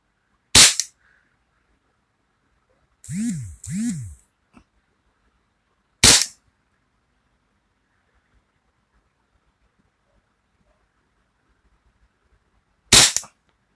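Four sharp, loud Taurus PT92 pistol shots fired indoors, spaced irregularly, each a short crack with a brief indoor ring, with a short grunt-like vocal sound between the first two.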